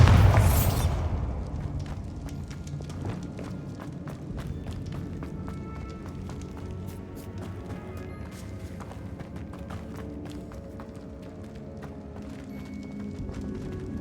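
A loud magical explosion from the Bombarda spell in Hogwarts Legacy bursts at the start, then fades into steady, busy game sounds with scattered thuds and rumbles.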